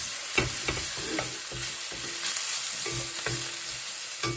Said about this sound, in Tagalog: Sarap na ng amoy ng ginisang sibuyas.